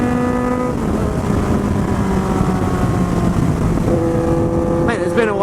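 A 2019 Kawasaki Z900 motorcycle engine drones steadily while riding, its pitch holding and then climbing near the end, masked by heavy, constant wind rush over the microphone.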